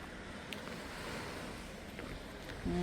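Black Sea waves at night on the Odesa shore, a steady wash of surf and wind noise that rolls on continuously and fairly faintly, with no talking.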